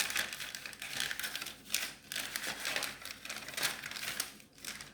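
Paper is creased and pressed while folding an origami gold dragon, giving close, repeated crinkling and rustling in bursts with short pauses between folds.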